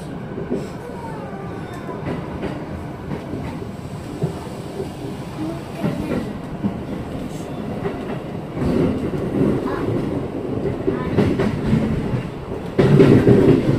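Continuous rumble of a JR East E233 series electric commuter train on the Nambu Line, heard from inside a carriage, with rhythmic clatter and a louder surge toward the end.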